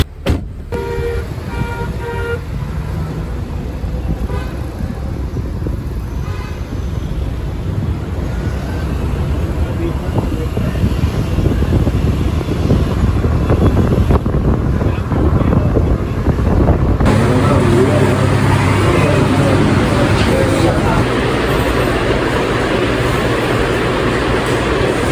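A car drives along a road with loud, steady rumbling road and engine noise, heavy wind buffeting the microphone, and a shift in the noise partway through.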